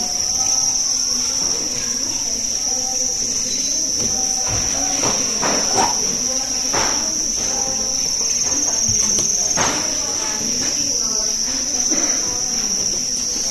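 Crickets about 50 days old chirp in a breeding box fitted with egg trays, a steady dense trill alongside soft rustling and handling noises nearby.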